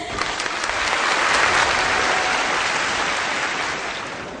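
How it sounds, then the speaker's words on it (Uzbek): An audience applauding fathers at an event, steady, full clapping from many hands that swells in the middle and tapers slightly toward the end, close and continuous with no talk over it. "Endi olqishlarimiz ana shu ulug' dadalarimiz uchun"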